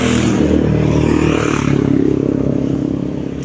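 A motorized tricycle engine idles and revs loudly up close on a rainy highway, with a throbbing, pulsing motor rumble and some rattling that shifts slightly in pitch midway.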